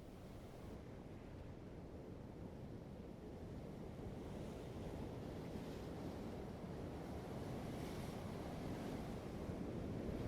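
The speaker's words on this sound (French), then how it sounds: "entendre le bruit des vagues qui se brisent sur les rochers." Ocean waves break against coastal rocks in a continuous low roar of surf, faint and distant, with steady wind noise buffeting the microphone and a gradual swell in loudness.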